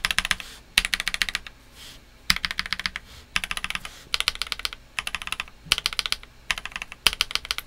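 Keys on a NuPhy Halo65 mechanical keyboard are pressed in brisk clusters of sharp clacky strikes separated by short pauses, recorded close and loud with no voice.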